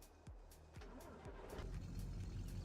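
A truck engine in the video game Farming Simulator 22, starting up and then idling and revving in a low rumble that builds slightly, with soft clicks on top.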